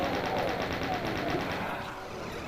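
Chaingunner enemies in Doom spraying rapid automatic fire, a steady rattling stream of shots that holds loud and continuous for about two seconds before easing slightly.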